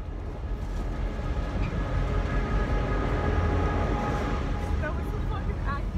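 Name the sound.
train passing close by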